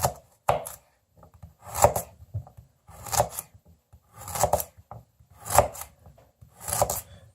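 A Spyderco Paramilitary 2 folding knife chops through large carrots, giving six crisp, evenly spaced crunching cuts about a second apart, close and fairly loud against near silence.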